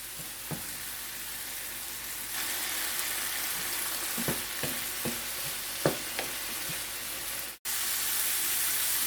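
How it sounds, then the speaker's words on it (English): Vegan jackfruit stew with allspice, paprika and browning cooks in a pot with a steady hissing sizzle, while a spoon knocks and scrapes against the sides in several separate strokes, close by and with no voices. "I'm going to stir, allow it to cook for another 2 minutes."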